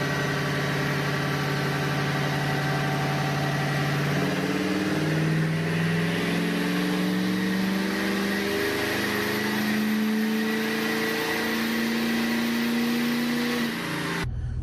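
Compound-turbo 6.7 Powerstroke diesel truck making a 708 wheel horsepower dyno pull, a loud deep engine drone climbing steadily in pitch as it revs up, then cutting off abruptly at the end.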